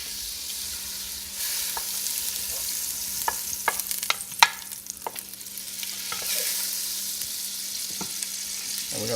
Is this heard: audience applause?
no